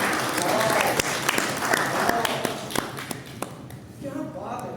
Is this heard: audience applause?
yes